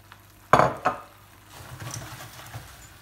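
Risotto with white wine, fresh mint and peas is stirred in a pan: two sharp spoon scrapes against the pan, then a soft, steady simmer with faint clinks, up close with no talking.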